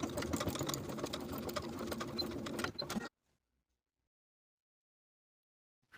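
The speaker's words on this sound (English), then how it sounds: "I'm going to stitch in the ditch just as far as the facing" A sewing machine stitches in the ditch along the shoulder seams of a round-neck cropped boxy top, running steadily and close for about three seconds before stopping dead into silence.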